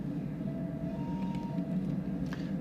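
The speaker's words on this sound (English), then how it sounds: "That's just the alerter, making sure that I'm awake." A locomotive alerter sounds in the cab of an ES44C4 diesel on Cajon Pass in Train Sim World 3, a thin steady electronic tone held for about a second over the low rumble of the idling engine.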